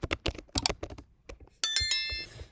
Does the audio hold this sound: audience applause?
no